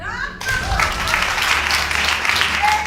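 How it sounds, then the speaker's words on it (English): A courtroom audience bursts into applause after a paternity verdict. The clapping starts abruptly and stays loud and continuous, with a few excited voices calling out over it. "met with applause and a sense of resolution"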